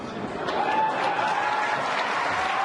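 A crowd at an anti-bullying workshop cheers and applauds steadily, dense clapping and whoops sustained at an even, loud level throughout without pause.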